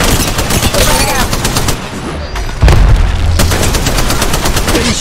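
Rapid automatic gunfire from the mobile battle-royale game Apex Legends Mobile, loud and sustained for the whole stretch, with a heavier boom near the middle among the dense volleys.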